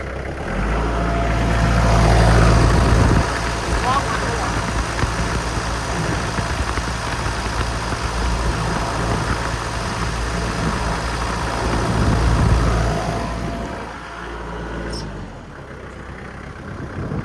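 Diesel engine of a 2009 Kubota L4400E tractor with front loader revving up from low RPM, a steady loud mechanical drone that swells, holds, then eases down near the end.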